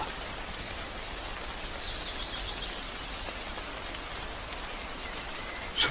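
Steady rain falls through a Finnish forest, a soft even hiss of drops on leaves and ground, with a brief closer patter at the very end and no voices.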